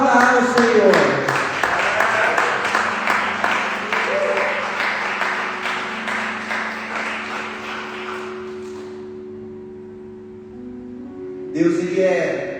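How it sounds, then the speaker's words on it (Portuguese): A church congregation claps together at an evening communion service, a dense steady wash of applause that fades away toward the end, with a voice speaking over it. "Aplauda ao Senhor"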